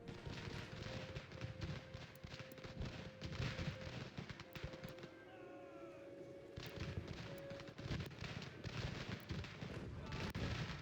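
Cannon and artillery fire in Ultimate General: American Revolution, with repeated sharp booms and crackling volleys across a dense, steady battle din, a sustained tone running underneath.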